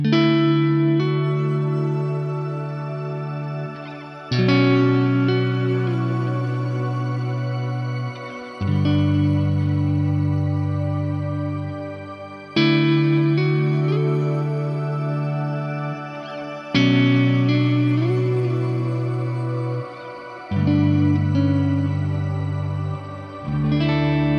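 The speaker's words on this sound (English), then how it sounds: "if you do like pitch shifted reverbs, Ursa Major is my favorite in here" Pitch-shifted reverb from an Ursa Major effect on a Fractal FM9 guitar processor, sustained shimmering chords that ring out in long washes, changing roughly every four seconds across several repeated phrases, loud and alone.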